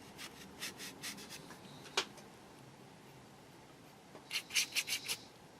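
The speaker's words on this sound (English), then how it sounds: "So if I'm scraping across the cardboard, that's going to sound shocking in the audio." A paintbrush scrapes and rubs across cardboard while a 1/12 scale model rider set is painted, making a series of short close strokes, then a pause, then another quick burst of scraping.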